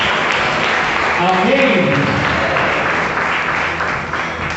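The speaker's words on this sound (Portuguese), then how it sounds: "Você pode aplaudir bem forte aos céus" A church congregation applauds loudly and continuously in a dense sustained roar of clapping, with a voice speaking briefly over it.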